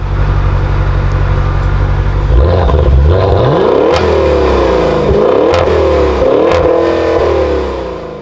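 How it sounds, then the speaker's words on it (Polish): A Maserati Levante GTS V8 exhaust burbles at idle, then barks through several sharp revs that rise and fall, loud and close, with no talking. "jak zaraz usłyszycie, ten wydech naprawdę fajnie gada."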